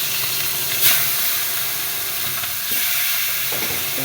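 Marinated fish fries in a pan, giving off a continuous bright hiss and sizzle at an even, fairly loud level, with small crackles and a faint stirring sound.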